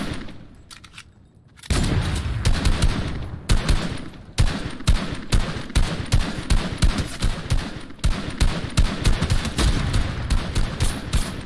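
Rapid gunfire in the video game Fortnite, loud bursts of automatic shots in steady rhythmic volleys over several seconds, preceded by a brief quieter stretch.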